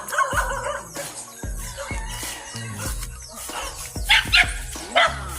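Many dogs bark repeatedly in an outdoor rural lot with grass and banana plants, sharp overlapping barks in an irregular rhythm, some near and loud, others farther off, with a few higher yips and rooster-like calls mixed in.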